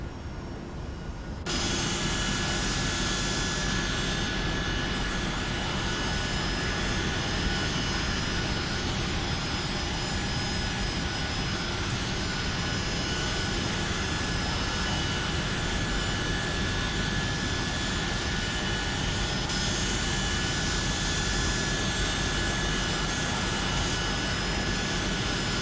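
A Flight Factor Boeing 757-200 in the X-Plane 12 flight simulator, its jet engines humming and whining in a loud, continuous drone that holds steady throughout, with no talking.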